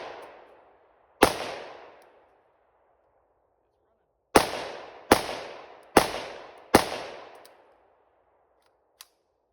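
Five sharp, loud 9mm gunshots from a BCA bufferless firearm firing 65 grain ammunition at 1,700 feet per second: one isolated shot, a pause, then four quick shots in a close, steady rhythm, each with a decaying outdoor echo.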